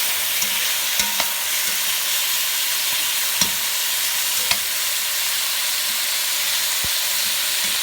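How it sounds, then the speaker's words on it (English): Pork belly browns in a hot pan for moo hong, a steady loud sizzle and fry hiss with occasional sharp clinks of a utensil stirring against the pan. "the pork belly's well and truly beautifully browned now"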